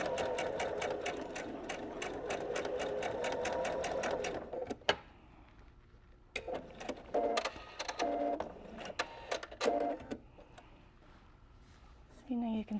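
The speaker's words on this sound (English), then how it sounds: "I'm going to sew right down that crease" A sewing machine stitches along the crease of bias tape in a steady rapid run lasting a few seconds. It then gives several short bursts of stitching separated by pauses, close and clear.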